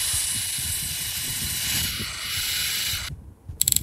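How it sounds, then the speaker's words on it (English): A vacuum cleaner runs steadily for about three seconds, a dense hiss and hum that holds level, then cuts off abruptly, followed by a few sharp clicks. "Why is there a goddamn vacuum?"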